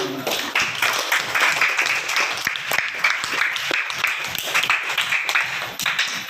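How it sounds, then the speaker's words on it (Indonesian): Elementary school children clap together in a classroom. The claps are steady, dense and close, with some patterned, rhythmic bursts, and a few voices can be heard underneath. "silakan tepuk tangan"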